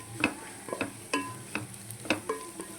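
Fish and carrot frying in a pan, a faint background sizzle broken by a series of sharp, irregular clicks and scrapes, like a spatula striking and stirring in the pan, with no speech.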